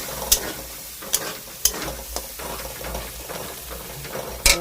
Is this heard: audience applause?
no